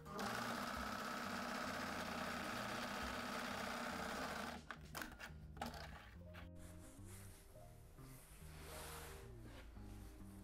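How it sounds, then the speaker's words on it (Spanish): Sewing machine stitching the corners of a fabric floor cushion, running in a fast continuous mechanical whir for several seconds, then stopping and giving way to quieter handling sounds and scattered clicks. "voy a seguir un trocito que me faltó de coser aquí para dejar las esquinas cosidas"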